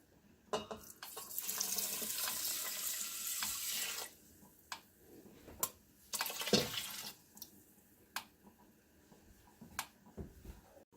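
Water poured into an Instant Pot for red beans and rice, with a few seconds of steady running flow followed by scattered clinks and splashes, quiet and close.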